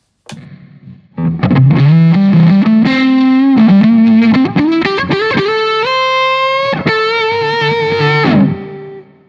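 Thick, saturated guitar through a fuzz pedal on its fat voicing, with a heavy tone, sustained chords and bending notes played loud, ringing out briefly at the end.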